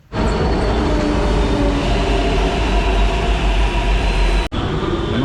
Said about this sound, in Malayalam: നമുക്കുള്ള മെട്രോ വരുന്നുണ്ട്